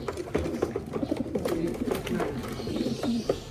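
Racing pigeons coo in a series of soft, throaty calls that repeat close by, with some bird rustling and faint background noise.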